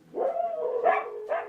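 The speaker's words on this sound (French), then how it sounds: "Ce sont des chiens de traîneau." A husky sled dog gives a short run of close, loud vocal calls, a drawn-out yowling bark followed by two quicker yips, heard alone.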